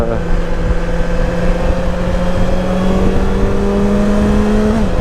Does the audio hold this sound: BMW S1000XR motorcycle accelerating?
yes